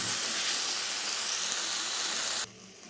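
Ginger and garlic fry in a pan with a bright, steady sizzling hiss that runs loud and unbroken, then drops sharply to a quieter sizzle near the end; no one speaks.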